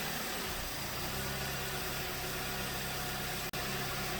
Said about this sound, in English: So there it's running at 1000 RPM.